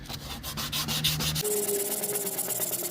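Hand sanding of body filler on a panel of a totalled 2001 Firebird, a steady scratchy rubbing in quick back-and-forth strokes, close and alone with no talk.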